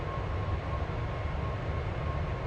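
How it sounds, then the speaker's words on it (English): Steady, loud low-pitched rumble of a Boeing 747-400 cockpit in Flight Simulator X as the landing gear lowers, a continuous engine and airflow drone with no distinct clunks standing out. "Gonna drop the gear."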